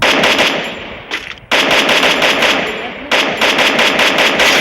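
Rapid automatic gunfire in the mobile shooter Free Fire: loud, dense bursts of shots that run almost continuously, broken by two brief pauses.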